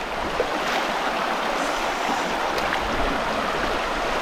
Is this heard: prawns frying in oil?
no